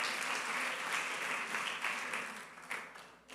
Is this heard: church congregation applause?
yes